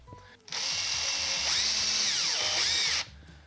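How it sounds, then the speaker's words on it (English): A power drill drives 50mm screws into a block of ash, its motor whining steadily for about two and a half seconds with rising and falling pitch as each screw bites and tightens, loud and close. "I've got here a piece of ash, which I'm going to screw on with a couple of 50mm screws."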